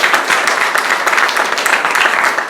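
Audience applause for parents at a school awards ceremony, a loud, close burst of many hands clapping that continues throughout.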